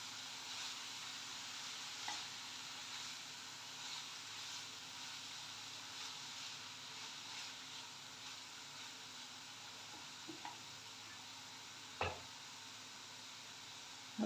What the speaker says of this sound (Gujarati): ફરી એકવાર હલાવી લઈશું.